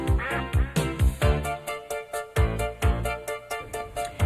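A duck quacks repeatedly in a steady rhythm, about a dozen loud, close, nasal calls following one another, heard alone without any talking.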